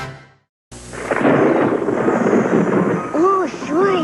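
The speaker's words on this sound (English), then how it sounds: "Ooh, sure is stormy." A thunderstorm fills the clip with a loud rumble of thunder and steady rain after a brief silent gap, while a voice speaks near the end.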